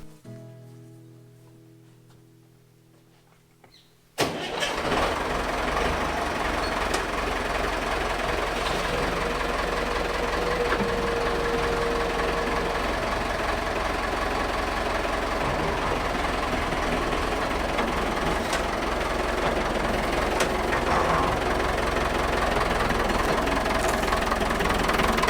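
A new farm machine for soil cover runs continuously in the field with a steady, loud mechanical drone and engine rumble after a quiet start, no talking over it.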